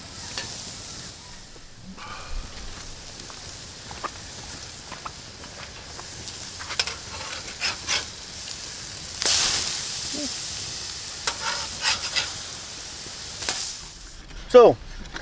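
A T-bone steak rubbed with oil and seasoning sizzles on a camp stove outdoors, a steady low crackle and hiss running throughout with a few louder spits and brief bursts near the end.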